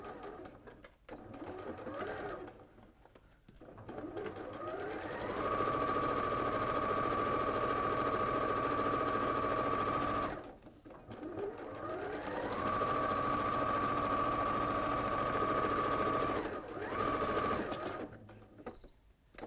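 A sewing machine stitching fabric, heard as two long, steady runs of close mechanical whirring and needle rattle, separated by pauses and brief handling sounds, with faint talk now and then.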